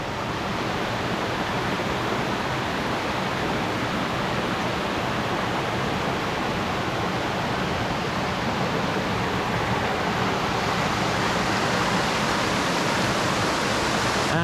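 Loud rushing water by a stream at Magazine Mountain: a constant, broadband roar of flowing water, close and unbroken for the whole stretch.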